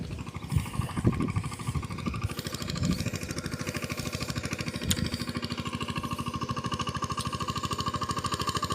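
A tractor engine runs at a steady rapid chug, with rough, uneven knocking early on before settling into an even, continuous pulse, fairly close.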